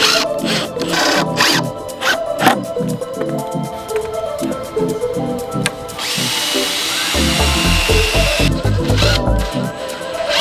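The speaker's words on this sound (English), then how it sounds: "I drilled pilot holes and then screwed the base into the tabletop." Power drill driving screws through a table base into a tabletop, loud bursts of whirring repeated across the clip, with short pauses and a deeper, heavier run near the end.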